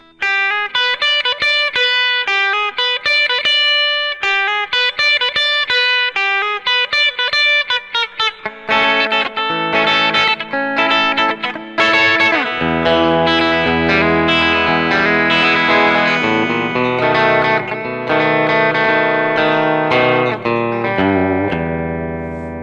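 A distorted electric guitar plays a lead line of quick bends and sustained notes, starting thin and alone, then thickening with heavier chords behind it.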